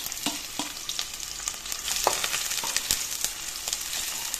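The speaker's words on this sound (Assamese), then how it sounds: "তেলখিনি ধুনীয়াকৈ গৰম হৈছে এতিয়া পেষ্টখিনি দি দিলো" Spice paste hitting hot oil sizzles steadily for an Assamese-style fish curry, with a crackling hiss and frequent sharp spatters and stirring knocks, heard close with no talking.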